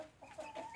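Domestic turkeys give short, soft gobbling clucks in a quick burst, faint and close together.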